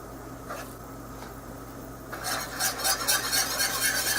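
Beef stew browning and thickening in a pot, stirred steadily with a utensil; after a quieter stretch a brighter sizzle and scraping swell up and keep going near at hand, with no talk.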